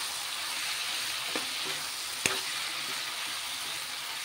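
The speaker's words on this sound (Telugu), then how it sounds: "ఇది కూడా బాగా రొయ్యలు కూడా దీంట్లో బాగా ఫ్రై అవ్వాలి, ఆనపకాయ రొయ్యలని." Raw prawns and chopped bottle gourd fry in a pan with a steady, close sizzle and hiss, broken by a couple of brief stirring clinks.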